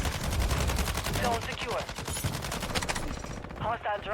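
Rapid bursts of gunfire in the Call of Duty Warzone video game, loud and dense with repeated shots, heard beneath someone talking.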